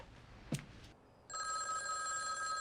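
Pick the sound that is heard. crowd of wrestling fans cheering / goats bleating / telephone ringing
telephone ringing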